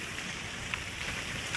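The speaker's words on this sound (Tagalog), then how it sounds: "Yan o, umulan na." Steady hiss of rain starting to fall outdoors during a crab-hunting trip, a constant soft wash of drops with faint scattered patters, no voices.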